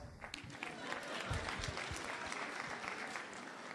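An audience applauds, a dense, even wash of clapping that lasts throughout at moderate loudness, heard from within the hall.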